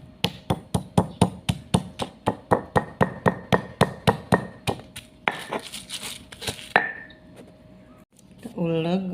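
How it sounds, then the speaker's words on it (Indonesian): Rapid, regular pounding of red chili and seasoning with salt in a stone mortar and pestle (ulek) for Betawi sayur asem, about twenty sharp knocks, followed by a few scraping grinds and a short voice. "Saya mau ulek bumbunya."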